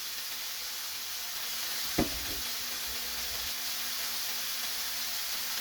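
Steady sizzling of marinated chicken searing in a hot pan, with a single brief clunk partway through and no talking.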